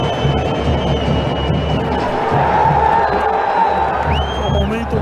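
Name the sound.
football crowd booing the goalkeeper Aranha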